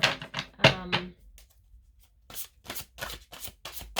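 Archangel oracle cards being shuffled by hand, a quick flurry of crisp riffling bursts at the start, a pause, then a longer run of rhythmic papery flicks, close and clear with no talk.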